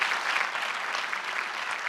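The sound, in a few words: audience applause for award recipient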